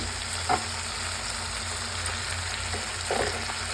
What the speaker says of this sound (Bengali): তো আমি এটার মধ্যে এখন মাছটা দিয়ে দিচ্ছি। হ্যাঁ, এই যে মাছের পেস্টটা দিয়ে দিচ্ছি।